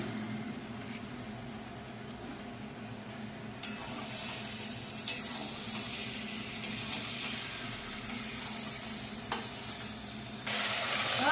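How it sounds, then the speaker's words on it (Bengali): Mutton pieces go into sizzling spice masala for a Bengali mutton curry and get stirred, a continuous close sizzle with scraping strokes and sharp clinks, growing louder and brighter toward the end, without speech. "এখন মশলায় মাংসটা অ্যাড করছি"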